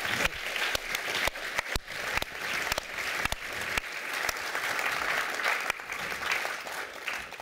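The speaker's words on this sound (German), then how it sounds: "finde ich einen Applaus den zwei Frauen" An audience at an event about women's resistance in Afghanistan under the Taliban applauds two women. The sustained, even clapping lasts several seconds with occasional sharper claps.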